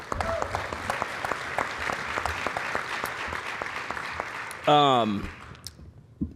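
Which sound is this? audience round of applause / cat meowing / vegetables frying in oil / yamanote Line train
audience round of applause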